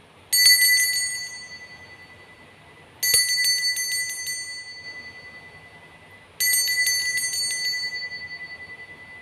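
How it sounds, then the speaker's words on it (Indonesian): A bright metallic bell rings three times, each strike evenly spaced and ringing out slowly, clear and alone against a quiet background. "Kita akan memulai dengan ditandai lonceng berbunyi."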